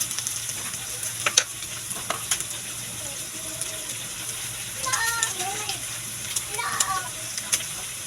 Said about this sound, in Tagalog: Lalagyan ko na guys na Tomato sauce.